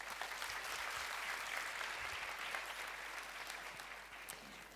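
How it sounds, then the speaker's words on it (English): At a high-level round table of the UNWTO World Forum on Gastronomy Tourism, an audience gives the speakers a warm, steady round of applause, dense clapping that fades slightly near the end. "please, ladies and gentlemen, another round warm of applause for our speakers"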